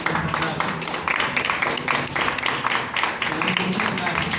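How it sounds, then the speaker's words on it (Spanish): A church congregation claps during a Spanish-language service, a loose patter of hands mixed with voices and murmuring, moderately loud and fairly close, continuing across the whole stretch. "Dale un aplauso al Señor en esta tarde."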